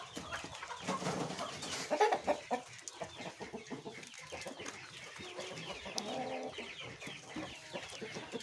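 Elba and layar crossbreed chickens in a backyard coop, clucking and calling close by with scattered overlapping bird sounds, a few louder squawks early on and steady busy chatter throughout.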